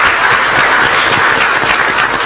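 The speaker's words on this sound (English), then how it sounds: "join me in congratulating them with a very, very warm round of applause" Warm round of applause from a conference audience for a panel session, dense and steady clapping filling the room with no voices over it.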